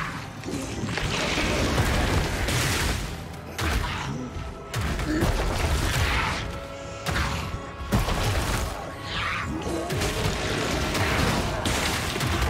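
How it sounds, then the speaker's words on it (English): Gory blood explosions burst repeatedly in the Forbidden Sanctum video game, a Path of Exile mode, dense crunching blasts and impacts over continuous combat noise, loud and close with a voice talking over them. "Blood explosions."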